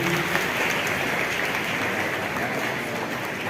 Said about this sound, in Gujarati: જોરદાર તાળીઓથી આપણે વધાવીએ